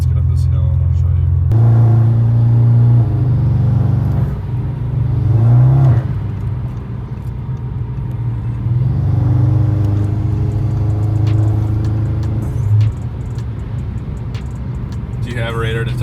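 Engine of a 600+ horsepower Audi S7 accelerating uphill, a loud low rumble that climbs and drops through gear changes for about fifteen seconds, with speech intermittently over it inside the cabin.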